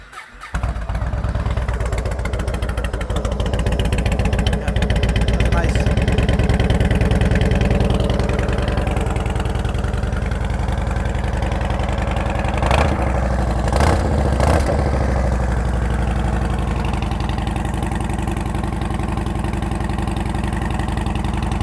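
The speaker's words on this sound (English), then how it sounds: "Let's see if it's fired up here. It's got some nice Vance & Hines exhaust on it." A 2008 Yamaha Road Star Warrior 1700 cruiser motorcycle with Vance & Hines aftermarket exhaust starts with a loud burst, then settles into a deep, steady idle, with a few brief throttle blips partway through.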